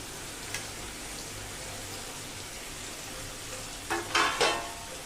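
Mashed eggplant bharit stirred into onions and frozen peas frying in a pan gives a steady low sizzle, then a few louder scraping stirs near the end.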